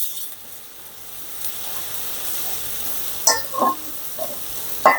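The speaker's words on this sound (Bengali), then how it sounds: "এবার আমি মশলাটা একটু কষিয়ে নিচ্ছি।" Spice mix with ginger-garlic paste and cumin powder sizzling steadily in a pan, a soft continuous frying hiss with a few brief stirring scrapes near the end.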